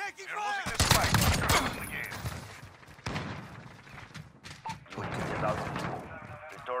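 Video game gunfire from an EBR-14 rifle: rapid bursts of loud shots crackle alongside other weapons in a chaotic firefight, with voices calling out over the combat.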